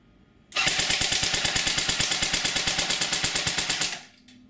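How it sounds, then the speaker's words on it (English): An A&K PKM airsoft machine gun magazine winds in one loud, close, continuous ratcheting buzz with a rapid regular pulse, lasting about three and a half seconds before cutting off abruptly. "So you hear the mag is also winding again?"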